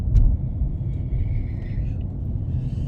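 A car driving along a road, a steady low rumble of engine and tires heard from inside, continuous and fairly loud with no talk.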